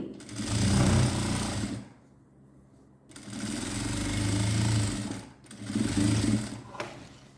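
Sewing machine stitching pant fabric in three loud rapid bursts of dense mechanical chatter, separated by short near-silent pauses, close by.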